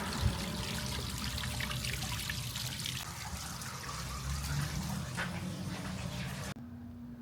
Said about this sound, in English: Cool little water feature waterfall.